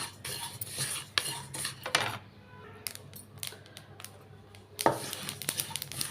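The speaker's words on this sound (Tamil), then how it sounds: "எள்ளு வந்து நல்லா வறுபட்ட உடனே டப்பு டப்புன்னு சவுண்டு கேட்குங்க" Sesame seeds dry-roasting in a pan: scattered sharp pops and light metallic clicks with some scraping, fairly quiet and close, with a short lull midway and no talking.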